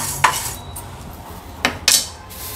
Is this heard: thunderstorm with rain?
no